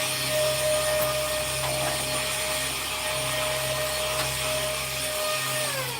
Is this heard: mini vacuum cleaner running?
yes